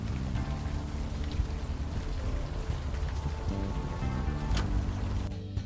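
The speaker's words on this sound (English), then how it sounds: "Look at her walking barefoot in the rain." Rain pours steadily in the video game Unavowed, a dense, fairly loud patter mixed with low rumbling ambience and faint musical tones, cutting off abruptly at the end.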